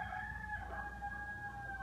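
Wild rooster crowing outdoors, a single drawn-out tonal call heard at moderate distance over a low background rumble.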